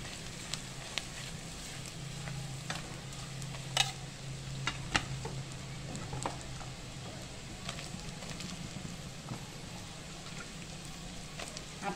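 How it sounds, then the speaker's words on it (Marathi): Thinly sliced onion sautéing in a pan for a potato dish, a steady low sizzle with occasional sharp clicks and scrapes of stirring throughout, no voices. "आपल्याला कांदा सुद्धा परतून घ्यायचा आहे मंडळी."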